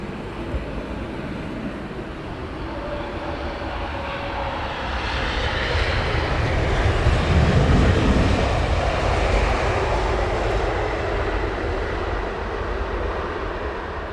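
A British Airways Boeing 777 lands on Heathrow's runway 27R, its jet engines a broad, rumbling roar that swells and peaks midway as it passes close, then holds a steady drone.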